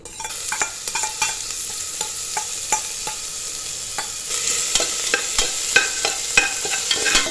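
Crushed ginger, garlic and green chilli sauté with spices in a pan for Kerala-style vegetable pulao, giving a steady close sizzle broken by repeated clicking stirs of a spoon, which grow busier in the second half, and no voices.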